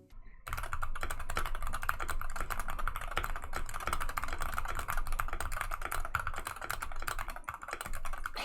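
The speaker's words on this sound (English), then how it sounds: "Here's a sound test of what it sounds like." A Wooting 60HE keyboard is typed on steadily, giving a dense stream of close, quick key clacks with no voices.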